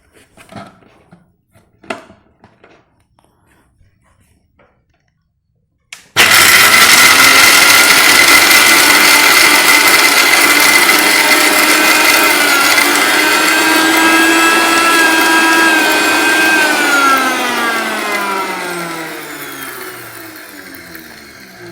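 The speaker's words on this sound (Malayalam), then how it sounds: "നമുക്കല്പം ക്യാഷ് പൊടിച്ച് നോക്കാം" A Sujata Dynamix 900 W mixer grinder switches on after quiet handling noises and grinds loudly and steadily in its 1-litre jar, the whine shifting in pitch as the contents break down, then easing off toward the end.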